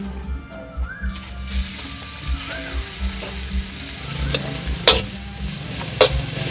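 Stir-frying in hot oil in a pan, a close continuous sizzle broken by spatula scrapes and a couple of sharp metallic knocks, with a faint hum underneath and no talk.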